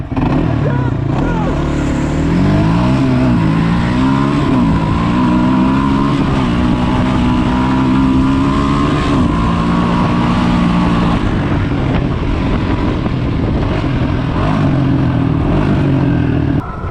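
A Zero electric dirt bike fitted with a 5kW Golden Motor races off-road, a continuous whining drone that climbs and dips with speed, loud and close, alongside other racing engine noise.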